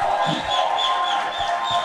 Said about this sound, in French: Applaudissez très très